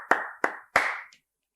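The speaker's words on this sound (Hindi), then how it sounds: "मैं तालियां बजाना चाहूंगा।" One person claps hands three times close to the microphone, sharp separate claps about a third of a second apart in a quiet room.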